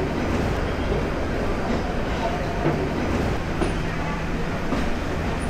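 A train rolls into Patiya railway station, a steady loud rumble of carriages with faint rhythmic rail clatter and a few high squeals, heard from on board with a faint murmur of voices.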